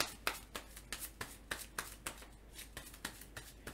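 Playing cards from a Marvel Legendary card game being drawn and handled on a table, with a steady run of soft, crisp card flicks and slides, about three per second, close and quiet.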